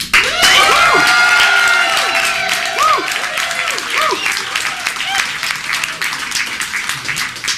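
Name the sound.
audience clapping and cheering for a candidate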